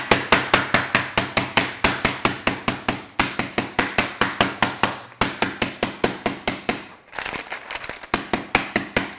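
Steady, loud rhythmic pounding on croissant dough in a home kitchen for chocolate croissants, a rapid run of close sharp thuds with short pauses between bursts, no talking.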